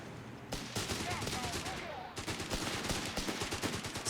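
Gunfire from the video game Company of Heroes 3, a 4v4 match with artillery and tank duels, loud and dense with rapid shots in steady bursts, a brief lull midway, then renewed firing; faint voices may sit underneath.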